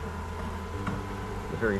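A dense, steady hum of many honey bees buzzing close by on a hive frame, with faint movement noises over it.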